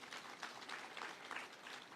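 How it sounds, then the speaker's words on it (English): Applause for diplomats at an opening ceremony, a faint, dense patter of many hands clapping from a distant crowd that runs steadily for the whole two seconds. "give them a round of applause."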